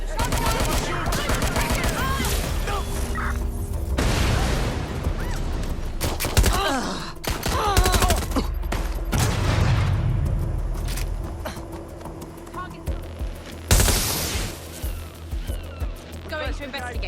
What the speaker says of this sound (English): I'm hearing guns.